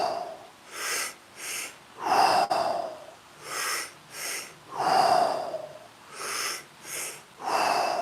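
Holotropic-style breathing: one person takes a deep in-breath followed by a quick extra pull, then lets go, repeated in a steady cycle of sharp, close nasal and mouth breaths with rasping exhales.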